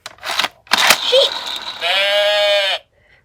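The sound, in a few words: sheep bleating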